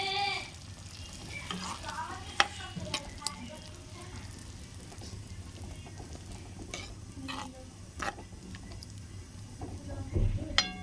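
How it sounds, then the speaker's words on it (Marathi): Cooked whole masoor lentils being stirred into fried spices for a dhaba-style dal, with a steady low sizzle and scattered spoon scrapes against the pan, close and fairly quiet. "आता आपण याच्यामध्ये शिजवलेला मसूर टाकूया. मिक्स करून घेऊया."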